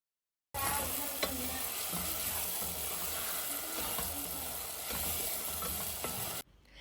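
Sliced tomatoes being sautéed in oil for a Malabar prawn biryani, giving a steady close sizzle with faint occasional clicks of stirring. It runs unbroken for about six seconds with no talking.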